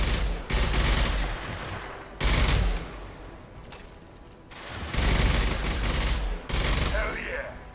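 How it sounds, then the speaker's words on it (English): Repeated concussive shot blasts and heavy gunfire from a Mass Effect firefight ring out loud and close, bursts clustered with short gaps between them, over a constant rumbling battle din. "Firing concussive shot!"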